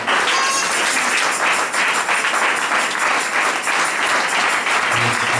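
A church congregation applauding together, dense steady clapping that stays loud and continuous throughout, with no speech on top.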